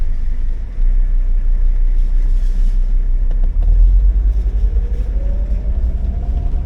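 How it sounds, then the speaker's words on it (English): A 1980s diesel Mercedes car pulls away and drives on, with a low rumbling engine, a loud, close, steady drone and a rising tone as it gathers speed. "Put my car in gear and let's get moving"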